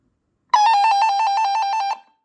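Radio Shack 12-247B weather radio sounding its alert test tone: a loud, steady electronic warble pulsing rapidly for about a second and a half, then cutting off abruptly, with no talking.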